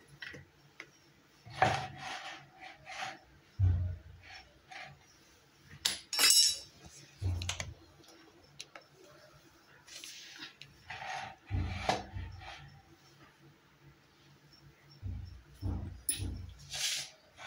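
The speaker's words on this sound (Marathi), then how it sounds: "तोपर्यंत आपण चपाती लाटून घ्यायचा" Chapati dough rolled out on a board: irregular, soft wooden knocks and taps from the rolling pin, with light clicks scattered between them and short pauses throughout.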